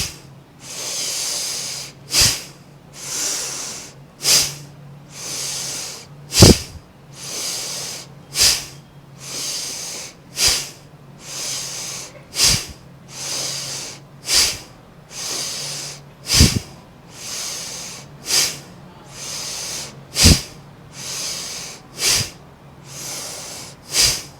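Bhastrika pranayama yoga breathing: a steady run of forceful, rhythmic nasal exhalations and inhalations, about one sharp breath per second, close and loud with audible hiss and snort, no talking.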